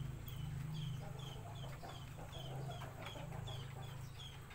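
Several Shamo hens cluck in short repeated calls over a steady low hum of farmyard noise, with no talking.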